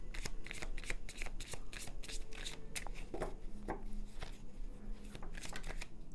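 Tarot cards are shuffled and drawn by hand, a close run of quick riffling flutters and soft slaps and snaps that repeats steadily, with faint speech briefly in the background.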